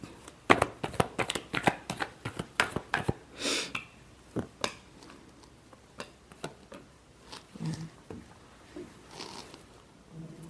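Tarot cards being shuffled in a final round: a quick run of crisp riffling clicks and flutters, close and fairly loud, then sparser taps and shuffles with no talking.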